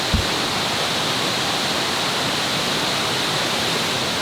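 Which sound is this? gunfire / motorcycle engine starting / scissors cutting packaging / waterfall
waterfall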